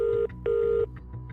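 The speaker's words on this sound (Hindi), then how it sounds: "अभिनव ने अगला नंबर अकरम का डायल कर दिया।" A telephone number is dialed, with two clear sustained keypad tones followed by a few fainter, shorter beeps, loud and close with no speech.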